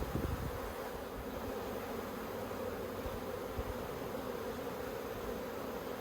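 Honey bees buzzing at a hive being inspected, a dense continuous hum holding steady throughout, moderately quiet with no voices.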